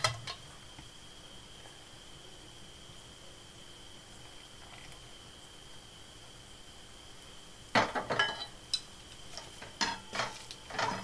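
A spoon scraping and clinking in a pan while mixing ragi laddu mixture, quiet at first, then a run of irregular clinks and scrapes toward the end, with no voice.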